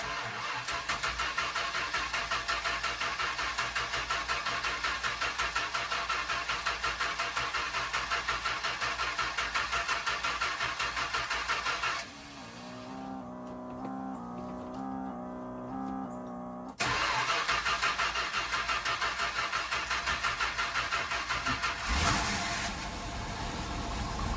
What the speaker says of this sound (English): It cranks right away, fires up